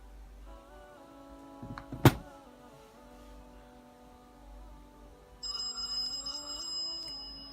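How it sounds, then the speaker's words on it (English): Incoming call ringing on an open-box CHUWI Hi9 Air tablet, a faint electronic ringtone with a sharp click near the start and a brighter ringing pattern toward the end, with no talking. "there we go, there's a phone call. That's on the regular phone."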